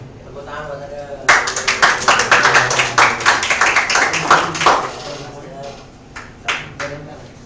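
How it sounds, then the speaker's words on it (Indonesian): An audience claps for a student presenter at a school class session, a dense burst of applause that swells and then thins into scattered claps. Background chatter and voices run underneath. "Tepuk tangan buat ada."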